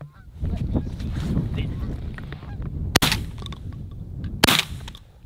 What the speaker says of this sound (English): Good shot. Nice shot, Lucas.